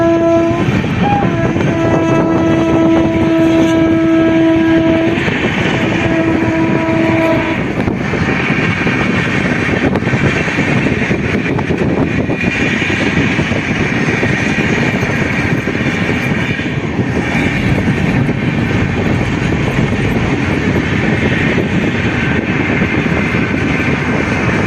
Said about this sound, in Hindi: ये देखिए ट्रेन का नाम लेते ही ट्रेन आ भी गई।